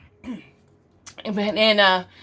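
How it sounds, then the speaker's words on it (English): A brief throat-clearing cough close by, followed by a person starting to speak. "please excuse me for my coughing"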